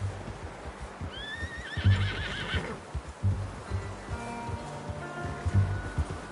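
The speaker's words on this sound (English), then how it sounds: "How's that new horse?" A horse in the video game Red Dead Redemption 2 gives a clear, wavering whinny, then snorts and shifts with soft hoof thuds, and a second fainter neigh follows over quiet outdoor ambience.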